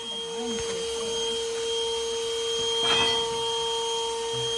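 A vacuum runs with a steady broadband hum and tonal whine while sucking yellowjacket wasps from a nest in a barn wall, with a brief louder surge of suction near the end.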